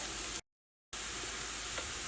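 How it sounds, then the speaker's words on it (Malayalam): Onions sizzle softly in hot ghee, a steady low hiss at close range, interrupted by a brief moment of silence. "നമ്മുടെ സവോള മൊരിഞ്ഞു തുടങ്ങിയിട്ടുണ്ട്"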